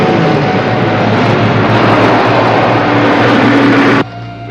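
A helicopter roars overhead during a police pursuit, with a loud, steady broadband rotor and engine drone that holds constant, then drops sharply near the end.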